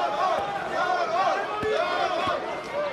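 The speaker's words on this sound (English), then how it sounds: "cheering on Mirko Krokop, while other fans are cheering on the champion" Croatian fans cheer for Mirko Cro Cop in a Japanese arena during a fight with Fedor Emelianenko, a broad crowd roar with rising chants and scattered shouts, heard at a distance beneath a commentator's voice.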